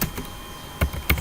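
A handful of computer keyboard keystrokes while writing HTML code: a few sharp, scattered clicks at close range, with quiet pauses between them and no talking.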